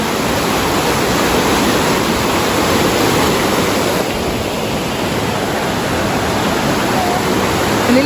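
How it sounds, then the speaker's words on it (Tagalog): Strong rushing water roars at a river swimming spot, a loud, steady, broadband wash that fills the whole stretch without pause. "Very strong, the water."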